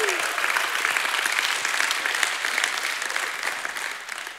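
A church congregation breaks into sustained, dense hand clapping with scattered shouts of praise, loud and steady for several seconds.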